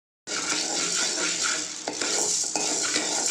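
Urad dal and spices dry roasting in a pan over a medium flame, with a steady close scraping and stirring rattle and light crackle that runs continuously, no voices.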